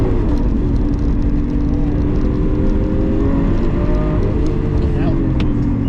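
A twin-turbo Lamborghini Aventador engine at light part throttle holds a continuous loud drone with a gradually rising tone, heard from inside the car.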